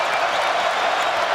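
A sellout arena crowd of about 20,000 roars during a Tennessee versus Alabama college basketball game, producing a loud, dense, steady wash of cheering with no break.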